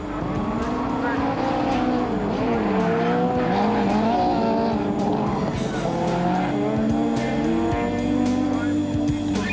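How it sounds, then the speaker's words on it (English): A Toyota rally car is thrown around a super special stage at the 1999 Rally of South Africa, its engine revving up and down with tire squeals and skids, while a commentator talks continuously over the action. "Plenty of action and superb car control from Piazzamuso, but often on stages of this nature, throwing the car around too much costs precious split seconds."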